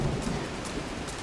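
Heavy rain hisses steadily in the wilderness with a low, continuous roll of thunder beneath it, a dense, unbroken wash of sound.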